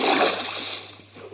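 Splash of a Minecraft character jumping into water in the Nether-themed survival game, a bright watery burst at the start that trails off into fading splatter over about a second.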